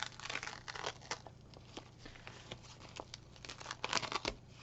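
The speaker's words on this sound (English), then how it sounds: "I'm going to peel this back off." A fabric zipper tag piece being peeled back off, giving close, quiet crinkling and tearing crackles in irregular short bursts.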